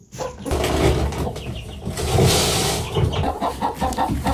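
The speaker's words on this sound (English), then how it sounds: "chickens are stomping around here because they hear me spreading the feed and they're really hungry" Hungry chickens clucking and squawking at feeding time on a country farm as feed is spread, a busy, close chorus of overlapping clucks that continues throughout.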